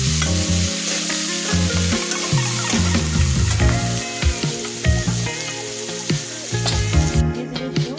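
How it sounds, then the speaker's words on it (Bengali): A river fish curry with chilli powder fries loudly in a pan while it is stirred steadily throughout. The sizzle is constant, with scraping strokes and clatter over it and a low tonal hum underneath. No one speaks. "ভালোভাবে নাড়াচাড়া করে নিই।"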